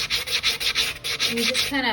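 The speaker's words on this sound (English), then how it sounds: "put the sanding block on an angle, and then you just kind of sand away" Rapid back-and-forth rasping of a sanding block held at an angle against the edge of a tumbler, about nine even strokes, close up, ending with a brief squeak.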